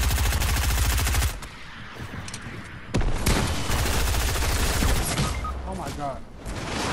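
Rapid automatic gunfire from a shooter video game rattles in dense bursts, pausing briefly and then resuming with loud sharp shots, while players talk excitedly over the firing.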